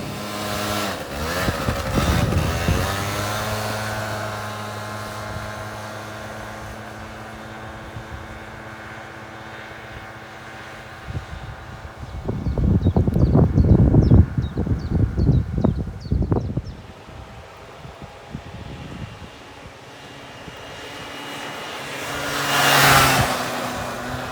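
An MBK Nitro scooter with an Ovetto engine being ridden, its small two-stroke engine buzzing and rising in pitch as it accelerates, then fading, with a burst of rough wind buffeting midway and another engine surge near the end.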